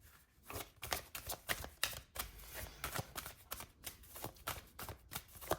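A deck of tarot cards being shuffled by hand, a steady run of soft papery riffles and flicks repeating quickly and evenly, close and fairly quiet with no talking.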